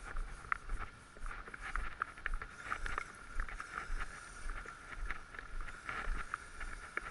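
A TOYATO HG P407 RC 4x4 truck, running in a high gear, drifts through water with a steady, fairly faint churning swish and whir, continuous and free of talk.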